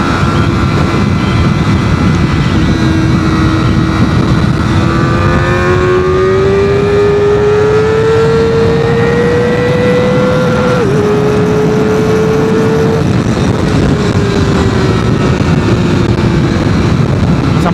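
A Modenas ZX-4R SE motorcycle engine accelerates hard on a test ride through traffic, its rising whine climbing steadily, dipping briefly at a gear change, then pulling on again, loud and close over constant wind roar.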